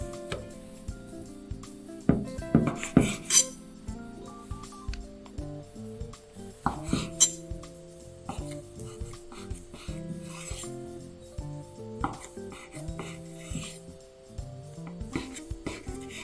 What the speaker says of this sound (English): Slice out the bread crust.